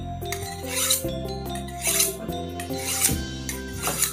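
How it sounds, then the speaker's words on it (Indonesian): Steel slaughtering knife blade (Willys steel) drawn over a fine sharpening stone, with repeated rasping strokes in a steady rhythm, close and moderately loud, alone without talk. "Ini sharpening halus, sharpening fine cut ini."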